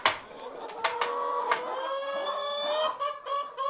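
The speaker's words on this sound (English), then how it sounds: "Life is all good in the chicken house here." Hens cluck and squawk together inside a farm chicken house, a busy chorus of overlapping calls with sharp clucks punctuating a steady drawn-out crow-like tone, close and moderately loud.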